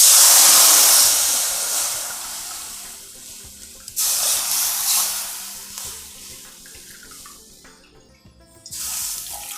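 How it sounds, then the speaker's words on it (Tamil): Three cups of water poured from a cup into a pan on the stove, a steady bright splashing rush in two pours with a short pause between them, close by and with no voices. "மூணு கப்பு தண்ணி விட்டுருக்கேன்."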